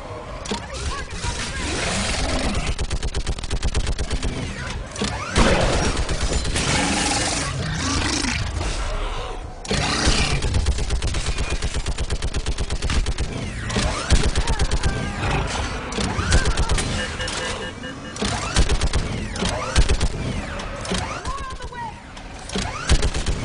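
A mounted gun firing in the Mass Effect 3 video game, a loud dense barrage of rapid shots that runs almost without pause under game roars and engine noise, with voices speaking through it.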